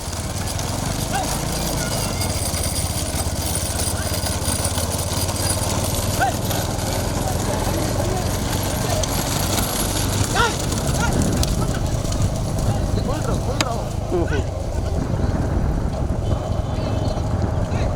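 Racing bullock carts in a small-bull cart race thunder past, hooves clattering rapidly and unevenly over a constant rumble of wheels and crowd noise, with voices talking over the din.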